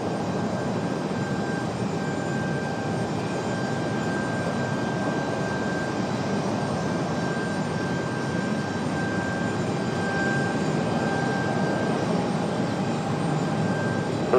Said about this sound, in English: Another American A321.